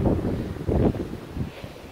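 Wind buffets a handheld phone microphone at the top of a tall water tank, a steady low rumble that swells in strong gusts around the start and again near the middle, with no voice over it.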